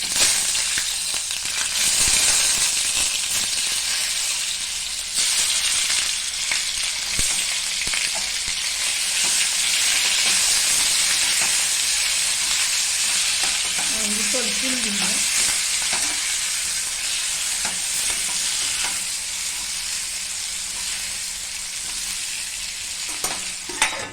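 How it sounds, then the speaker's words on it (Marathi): Mustard seeds crackle in hot oil, then sliced brinjal fries for kharda vangi, a steady loud sizzle with stirring that fills the whole clip and carries no speech. "मोहरी टाकूया फोडून की त्याच्यात वांगी टाकूया"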